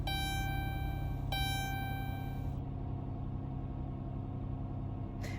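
A 2012 Chrysler Town and Country minivan engine idles after a thermostat and coolant replacement: a steady, close, low rumble with a faint constant whine, running alone with no talk.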